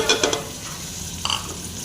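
Tomatoes fry in a kadai for beef karahi. A steady sizzle runs underneath, with a few quick scrapes and taps of a stirring spoon close by.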